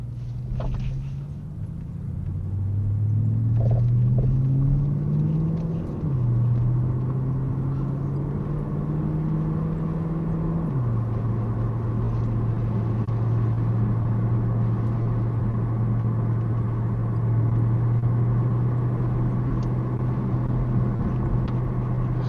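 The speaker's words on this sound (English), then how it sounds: "I don't know if you guys can hear the exhaust sound." A Porsche wagon cruises with a continuous low exhaust drone heard from the cabin, its pitch rising and falling through gear changes before it settles into a steady hum.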